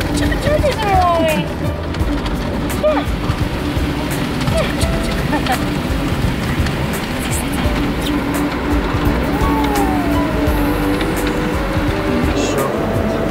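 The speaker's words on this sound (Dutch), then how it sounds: "Daar komen de zijborstels aan." Rotating side brushes of an automatic car wash sweep over a car, a steady loud swishing and rumbling wash that fills the whole stretch, with adults talking to a baby over it.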